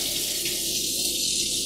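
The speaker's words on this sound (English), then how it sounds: "my right side, I'm going to fill this up with cold water" Cold water gushes steadily from a tap into one basin of a double kitchen sink, a continuous close hissing rush with no talking.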